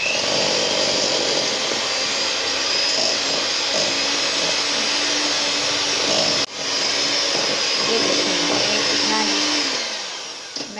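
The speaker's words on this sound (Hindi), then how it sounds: "ये चीनी शामिल करके इसको मैं मशीन से बीट कर लूँगी इतना कि ये आपस में मिक्स हो जाए" An electric hand mixer beats sugar into besan nankhatai dough, a steady loud whirring drone that runs without a break, dipping for a moment midway and tapering off at the end.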